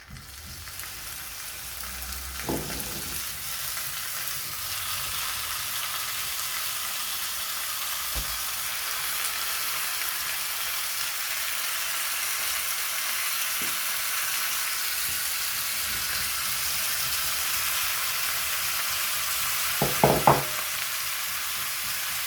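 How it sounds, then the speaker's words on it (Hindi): Chicken pieces frying in a small amount of hot oil in a pan, giving a steady close sizzle throughout with a few louder crackles and clatters near the start, middle and end. "ये थोड़ा सा गर्म हो जाए तो हम अपनी चिकन को इसमें रखेंगे"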